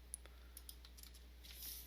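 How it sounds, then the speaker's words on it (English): Faint, sparse clicks of a computer keyboard being tapped while coding PHP, a few light keystrokes scattered through a quiet room with no talk. "press on tab on my keyboard"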